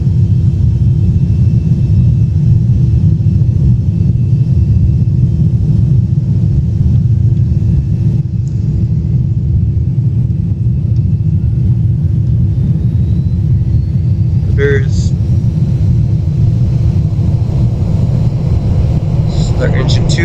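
Engine start of a LATAM Airbus A320 in a flight simulator game, a steady low rumble and drone holding throughout with a few brief clicks near the end.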